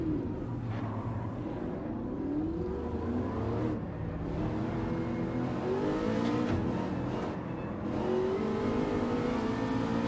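Subaru race cars in Gran Turismo 7 drone and whine continuously, with engine pitch rising and falling through gear changes and several cars heard together in a dense, steady mix.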